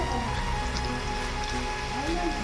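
Rain patters steadily on a surface, a constant close wash of droplets with faint tonal sounds and voices in the background.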